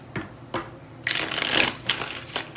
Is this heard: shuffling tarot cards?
yes